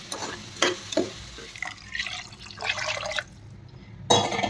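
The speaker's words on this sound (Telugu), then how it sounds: "పప్పు బియ్యం వేసేసుకొని ఇది ఒకసారి కలిపేసుకుందాం." Rice and lentils are stirred in water in a pot for mutton kheema ganji, giving short wet scrapes, clinks and sloshes in a few irregular bursts, close and fairly quiet.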